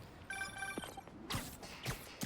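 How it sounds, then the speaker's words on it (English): A telephone rings in Spider-Man Remastered with a rapid electronic trill of repeated bright tones, followed by whooshing game effects and muffled thuds, moderately quiet. "We got a phone call coming in."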